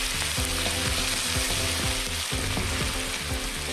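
Sliced onions frying in a hot pan while drumstick-leaf sukka is cooked, a loud, dense, steady sizzle heard up close with no break.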